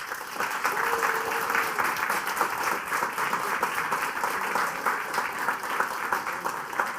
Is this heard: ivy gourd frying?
no